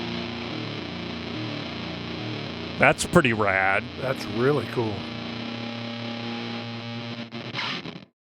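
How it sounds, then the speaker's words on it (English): An electric guitar runs through an effects pedal with its bit knob set for a fuzz tone, giving a buzzy, gritty sustained sound. A few plucked notes ring out mid-way, people talk briefly, and the sound cuts off abruptly at the end. "With the bit knob, you can actually get kind of usable fuzz tones."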